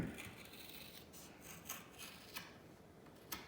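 Sharp scissors snip through hockey stick tape with a few quiet, crisp crunches spaced about a second apart, close and otherwise still.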